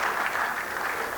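Brief, fairly faint applause from an audience at a formal annual lecture and fellows' induction ceremony, a soft steady patter of clapping hands.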